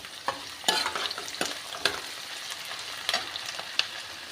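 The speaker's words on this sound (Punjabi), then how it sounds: "ਇੱਧਰ ਵੀ ਆਪਣਾ ਪਿਆਜ਼ ਭੁੱਜ ਰਹੇ ਹਨ" Onions fry in a pan for a ridge gourd sabzi, with steady close sizzling broken by several sharp spatula scrapes and stirring knocks at irregular intervals.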